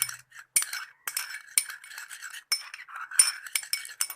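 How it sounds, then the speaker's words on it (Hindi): A spoon clinks and scrapes around a bowl in a quick, uneven rhythm while mixing a dry milk whitening cream, close and clear with short metallic taps. "इसको अच्छी तरह से आपने मिक्स कर लेना है।"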